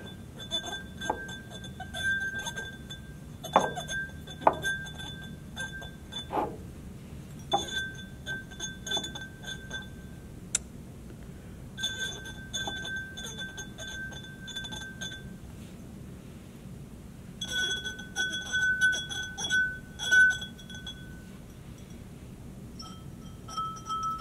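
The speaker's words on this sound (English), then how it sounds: "Dip your finger into the water and make slow circles around the rim of each glass." Wet fingertips circle the rims of water-filled glasses, drawing sustained pure ringing tones in several long stretches, separated by short pauses with occasional light clinks and taps.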